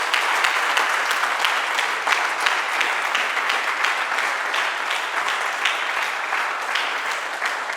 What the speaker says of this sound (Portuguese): Tem uma salva de palmas para Jesus.